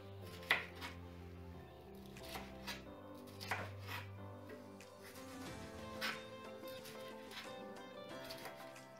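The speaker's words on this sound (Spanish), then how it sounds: "Ya tengo limpio el pimiento y ahora lo voy picando así," Knife chopping bell pepper into small cubes on a cutting board in a home kitchen, a series of faint, irregular close taps and knocks spaced a second or two apart over a low background hum.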